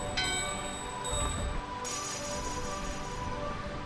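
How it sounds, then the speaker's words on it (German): Bells in Final Fantasy IX ring together in unison, several clear metallic chimes struck in succession with sustained ringing tones over quiet game ambience. "Die läuten wieder im Einklang."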